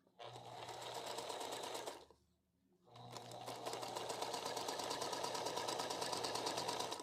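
A sewing machine stitches quilt fabric in two close, steady bursts of rapid mechanical chatter split by a brief pause of near silence.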